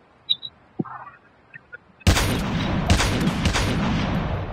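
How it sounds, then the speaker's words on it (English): Sparse clicks and small digital beeps give way to a sudden burst of rapid gunfire that continues in loud, repeated volleys in Call of Duty: Mobile Blackout battle royale. "maraming gunshots"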